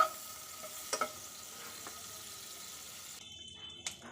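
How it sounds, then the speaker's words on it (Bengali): Under a spoonful of butter melts in a nonstick pan with a soft, steady sizzle, joined by a few light clinks and scrapes of a utensil, close by and fairly quiet, with no talking. "আমি একটা ননস্টিক পাত্র বসিয়ে দিয়েছি, আর এখন দিচ্ছি বাটার"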